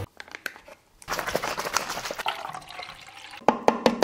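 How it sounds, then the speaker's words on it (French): Powder poured into the water of a bottle gives a crinkly, trickling liquid rush after a quiet start, with a few sharper clinks near the end, close and fairly loud. "Versez la poudre à dans l'eau de la bouteille."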